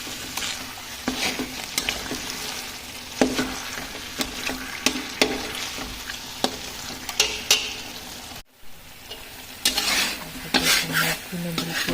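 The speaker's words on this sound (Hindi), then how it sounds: "ये ध्यान रखना है कि मेथी नीचे चिपके नहीं, तो चलाते रहना मेथी को अच्छे से।" Fenugreek seeds in ghee are stirred in a pan over modest heat, with repeated scraping and tapping strokes over a steady sizzle and a brief break partway through.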